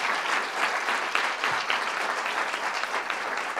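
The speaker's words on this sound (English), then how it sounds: "Let's give another round of applause, Julianne Moore." An audience at a governor's women's justice agenda event applauds steadily for a few seconds, a dense, even wash of clapping with no talking over it.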